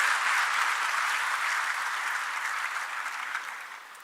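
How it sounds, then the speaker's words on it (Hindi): An audience at a Bhopal ceremony honouring a UPSC civil services candidate applauds, a dense, steady wash of many hands clapping that carries loud throughout and eases slightly toward the end, with no voices. "तालियों से स्वागत करेंगे कुमारी सोनाली सिंह परमार जी का"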